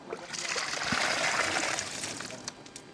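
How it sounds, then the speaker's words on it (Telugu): Water is poured onto potted chrysanthemum plants in a home flower garden, producing a short, close trickle and splash that rises and fades within a few seconds. "ఇప్పుడైతే మా అమ్మగారు అయితే మొక్కలకి నీళ్ళు పోస్తున్నారు"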